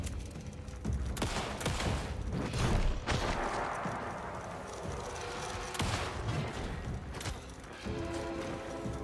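Gunfire in the video game Alan Wake 2, a rapid volley of sharp shots and impacts, several clustered blasts early on followed by scattered single reports over a continuous game soundscape.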